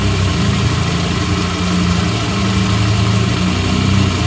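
A car engine idles steadily while warming up before any engine-speed adjustment, giving a continuous low rumble that stays even and close throughout with no voices.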